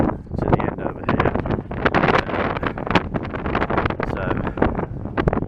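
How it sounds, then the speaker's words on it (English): Strong gusting wind on the coast at Kimmeridge buffets the microphone with loud continuous rumbling roar throughout, and someone briefly speaks under it. "It's very windy still."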